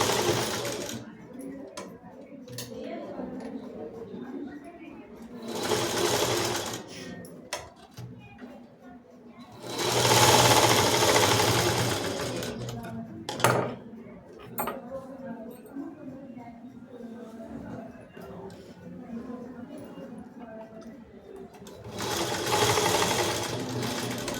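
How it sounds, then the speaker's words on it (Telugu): Sewing machine stitching a school dress, several bursts of fast whirring needle chatter separated by pauses, with someone talking between runs. "ఫస్ట్ మలుచుకొని కుట్టు మీద కుట్టు వేస్తే అయిపోతుంది."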